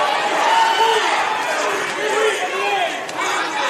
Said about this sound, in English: Crowd really invested in this one.